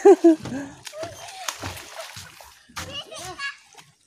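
Water splashing and sloshing close by as children bathing in a clear, shallow river at Tinakayanan Falls, Labrador, Pangasinan chatter and call out over it.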